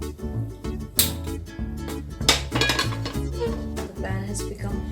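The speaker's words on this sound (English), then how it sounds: "We take a large pan." A large metal cooking pan being handled in a home kitchen while making poha chivda, with several clanks and scrapes of metal against metal and a stove, irregular and close, no one talking.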